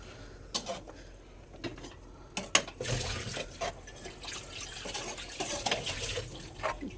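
Water squeezed out of soaked soybean chunks by hand, draining and dripping into a vessel in a home kitchen, with wet splashes and trickles over steady background noise, no talk.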